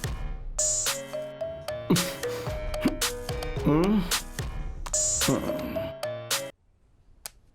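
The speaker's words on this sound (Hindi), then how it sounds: "किसका फोन है?" A phone ringtone plays a loud, repeating electronic melody for several seconds, then cuts off, leaving near silence.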